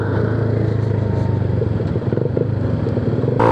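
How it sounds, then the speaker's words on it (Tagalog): Motorcycles riding alongside big bikes, a Kawasaki Ninja 650 and an NK 450, on a group year-end road ride: a loud, steady engine drone with wind rumble, close up, ending in a brief surge. "Sabay tayo sa mga big bike."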